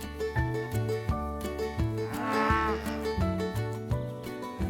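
Dairy cows grazing in the open countryside of rural Worcestershire; a single drawn-out moo rises midway over steady, rhythmic background music.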